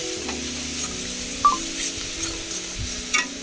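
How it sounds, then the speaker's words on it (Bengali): Water poured into spiced masala frying in oil makes a soft, close hiss and sizzle, with a couple of light utensil taps and no speech. "একটু ভালো করে ভেজ কষিয়ে নিয়ে জল অ্যাড করলাম পরিমাণ মতো"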